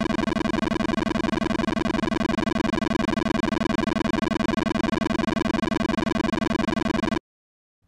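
ZX Spectrum Bomberman remaining-time bonus tally: a loud, continuous buzzy beeper tone rapidly pulsing for about seven seconds before cutting off abruptly into silence.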